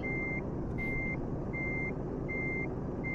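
In Euro Truck Simulator 2, a truck's reversing alarm beeps four times in an even rhythm, clear and steady over a constant low engine rumble, with no voices.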